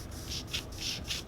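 Sanding of thin nitro lacquer on a Gibson SG prototype guitar headstock, close and steady, with rhythmic back-and-forth rubbing strokes of about four passes.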